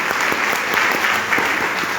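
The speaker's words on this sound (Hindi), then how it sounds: "एक बार सर के लिए ताली बजाइए जबरदस्त" A seminar audience applauds a speaker with steady, dense clapping from many hands, continuous and fairly loud for two seconds.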